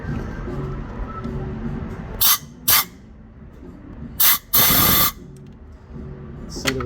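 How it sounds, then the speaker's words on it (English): Compressed air blasts clean a GDI engine part: several sharp, loud hissing bursts, two short, then a longer spray of about half a second, set against a low workshop background with no talk. "Hit it with some compressed air real quick."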